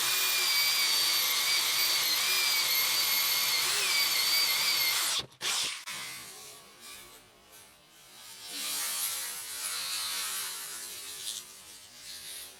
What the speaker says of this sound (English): I'm going to use a Forstner bit, and we'll cut that out on both pieces.